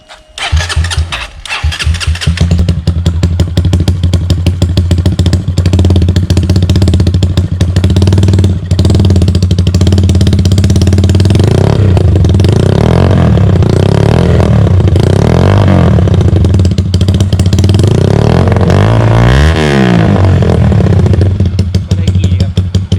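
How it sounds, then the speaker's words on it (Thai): A fuel-injected Honda Sonic 150 motorcycle engine cranks and catches, then runs loud and close with steady idle and several rising revs, alone without talk. "ก็รถคันนี้ติดเครื่องได้ไหมครับ ติดได้ครับผม"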